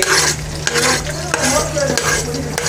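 Onions are tipped into a hot frying pan and stirred, giving a close, loud sizzle with repeated scraping and clinking of a spoon against the pan.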